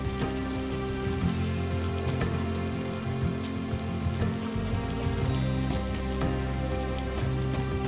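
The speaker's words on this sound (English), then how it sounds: "it's morning and it's raining" Steady, dense rainfall in the video game DayZ patters across a surface, with scattered louder drops ticking through a constant wash of noise; no voices.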